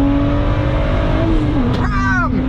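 A BMW M2 on a race track accelerates hard, a steady engine drone swelling into a rising, high-pitched rev with shifting harmonics near the end, loud and close with no talk.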